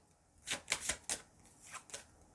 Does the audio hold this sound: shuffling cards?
yes